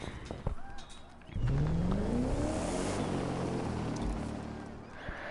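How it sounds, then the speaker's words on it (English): A touring car engine in The Crew 2 racing game revs up loudly after a quiet start, with the pitch climbing steadily as it accelerates and then holding a sustained roar. "We're starting with a touring car."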